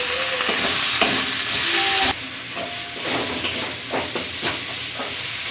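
Ginger-garlic paste, onions and chopped tomato stirred in a frying pan, with steady close sizzling and hiss, a louder burst in the first two seconds, then quieter frying broken by light scraping strokes of a spatula.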